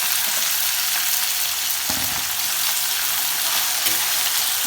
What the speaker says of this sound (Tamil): நல்லா வதக்கிடுங்க, செவக்க வதக்கிடுங்க